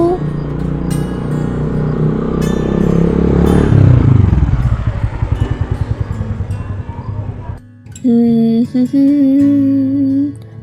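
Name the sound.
scooter arriving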